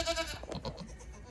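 Baby goats bleat in a farm pen, several overlapping wavering cries close by in quick succession, with no talking.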